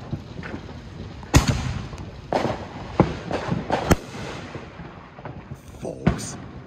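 Fireworks burst in a busy, war-zone-like barrage, sharp cracks and booms scattered over a constant crackling rumble, several loud pops standing out at a moderate distance.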